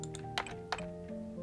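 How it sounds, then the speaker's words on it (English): Keys clack on a mechanical keyboard in a few sharp, close taps spaced unevenly over a steady electronic hum, with no talking. "I have a mechanical keyboard and you can hear it"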